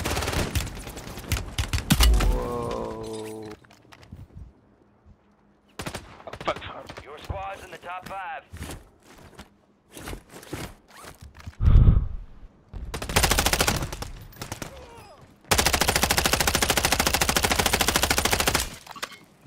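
Bursts of automatic gunfire and single shots in a Call of Duty battle royale match, loud and close, broken by quieter gaps and game sounds, with players talking between volleys.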